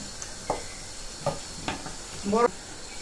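Soft frying sizzle of sardines with aubergine, with a few scraping stirs of a spoon against a pan, steady background hiss, no talking.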